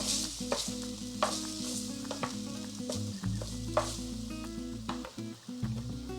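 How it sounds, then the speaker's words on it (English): Steady hot sizzling and crackling of sautéed zucchini and squash in a pan, with occasional sharper pops and a low hum underneath. "here's our finished zucchini and squash. Sizzling, nice and hot for us."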